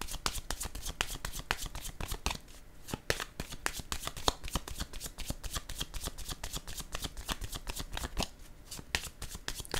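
Tarot cards shuffled by hand in quick repeated riffles and flicks, a steady run of sharp papery clicks close to the mic, with no talk over them.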